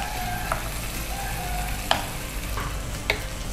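Garlic frying in a pan for a Kannada home-cooking dish, a steady close sizzle with a few faint stirring clicks of a utensil, no voices.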